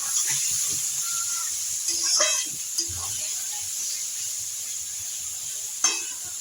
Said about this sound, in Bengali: টমেটো 2টো টমেটো কুচিয়ে দিয়েছি, এগুলো হালকা করে ভেজে নেব পেঁয়াজের সাথে।